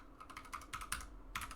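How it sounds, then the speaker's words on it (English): Quick bursts of typing on a computer keyboard, clustered keystrokes with a short pause midway, fairly close and quiet with no talk. "My typing is horrible."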